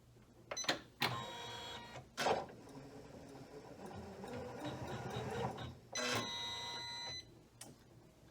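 A Janome 500E embroidery machine runs with a steady mechanical whir and rattle, broken by several sharp clacks and beeps, recorded close in a quiet room with no talking.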